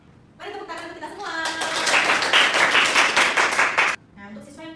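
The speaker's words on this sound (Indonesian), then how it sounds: "Mari tepuk tangan untuk kita semua" A classroom of primary pupils claps together for a few seconds, a dense burst of hand claps with children's voices mixed in and talk before and after.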